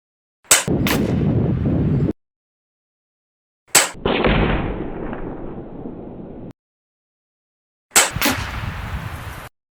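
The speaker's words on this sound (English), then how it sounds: "this is how this gun shoots with no wind" Three sharp shots from a Chiappa FAS AR611 .22 PCP target air rifle firing 13- and 14-grain pellets outdoors, each a loud crack followed by a decaying hiss, spaced a few seconds apart with silence between.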